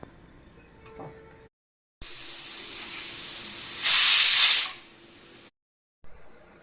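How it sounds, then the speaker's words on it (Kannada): A pressure cooker whistle shrieks as it vents steam while lentils and drumsticks cook for soup, a steady loud hiss that swells into a sharp blast for about a second, then cuts off. "ಇದು ಎರಡರಿಂದ ಮೂರು ವಿಷಲ್ ಆಗಲಿ"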